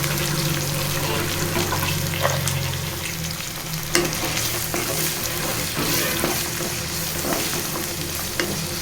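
Curry leaves and carrot pieces fry in a pan for a Telangana-style green pea and tomato curry, with a loud, continuous crackling sizzle and scattered stirring clatters throughout.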